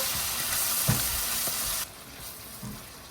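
Shell-on shrimp with tails sauté in a pan for garlic linguine. A close, steady sizzle carries a couple of stirring knocks, then drops quieter partway through. There is no talking.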